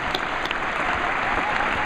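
Audience applause at the Sustainable Cleveland 2010 Summit, a steady, full wash of clapping from a large crowd that holds at an even level.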